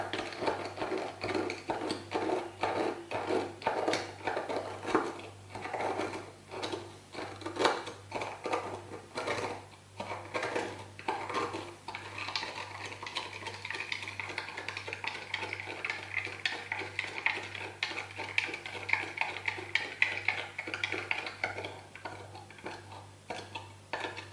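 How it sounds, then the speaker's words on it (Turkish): A spatula stirring sugar in a glass to dissolve it makes a rapid stream of light clinks and scrapes against the glass, continuous and fairly close, with no talking. "Şekeri koyduğum kabımın bardağımdaki tüm şekeri çözmek için spatülle karıştırmaya başlıyorum"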